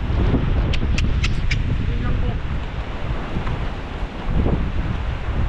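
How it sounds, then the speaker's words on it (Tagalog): Strong typhoon wind roars and buffets the microphone continuously, with a rough, gusty rumble and a few brief high squeaks early on. "Dadali naman ang bagyaw. Lakas ang hangin."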